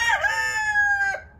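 A rooster crows once, close and loud, a rising then sustained cock-a-doodle-doo that trails off.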